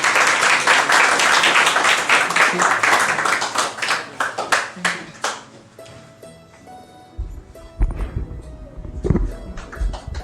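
Audience applause follows a Hindi Mahabharata poetry recital of the Krishna–Duryodhan dialogue, a dense burst of claps at close range that thins into scattered claps and fades, with faint low tones beneath.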